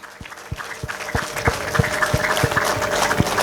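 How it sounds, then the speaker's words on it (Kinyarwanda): A crowd applauds at a trophy celebration, broad clapping building in loudness over a regular, evenly spaced thumping beat, with a thin sustained high cry running through the middle. "Amashyi menshi cyane n'impundu twese."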